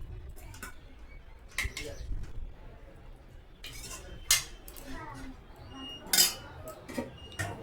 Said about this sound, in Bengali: এটা এখন বেড়ে নিচ্ছে মা।